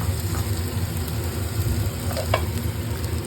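Onions and ginger fry in a pan for a tomato curry, giving a steady, close, even sizzle throughout, with a couple of brief scraping stirs near the end.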